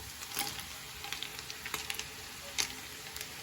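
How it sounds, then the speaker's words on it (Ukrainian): Chicken pieces with champignon mushrooms and onion fry in a pan, a quiet, even sizzle broken by scattered small crackles and pops. "І також піджарюємо до золотистості"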